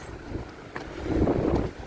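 Gusty wind by the sea buffeting close to the microphone, rising and swelling over a couple of seconds, with faint outdoor ambience underneath.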